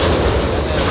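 A train rumbles past nearby with steady, loud clattering and wheel noise filling the whole second, no voices.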